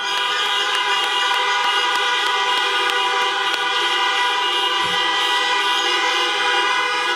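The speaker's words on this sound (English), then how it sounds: "May I ask you to join in a robust round of horn honking" Many car horns blare together at a university convocation in a sustained, overlapping chorus of steady tones, loud and unbroken from start to finish.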